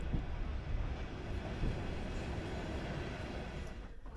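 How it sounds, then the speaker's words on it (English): A former Latvian night train approaching Karaganda passenger railway station in Kazakhstan, heard from aboard as a steady low rumble of wheels and carriage noise, broadband and continuous at moderate level without talk. "here we are approaching Karaganda's passenger railway station"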